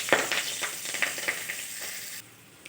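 Nigella seeds and slit green chilies sizzle in hot oil, a faint steady crackling fry with scattered small pops that thins out toward the end.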